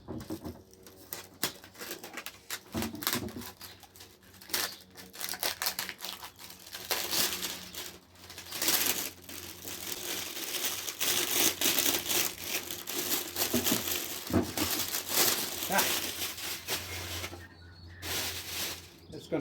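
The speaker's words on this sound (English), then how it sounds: "It's going to crinkle right through my video" Wrapping crinkled and crushed as it is pulled off two carved pieces, a dense rustling crackle going on almost the whole time, close and busy, with a voice occasionally talking underneath.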